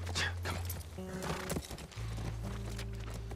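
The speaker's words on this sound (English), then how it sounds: "That's our horse." A horse in The Last of Us Part I game, heard as a few soft hoof clops and a brief snort over steady low ambient hum and game music tones.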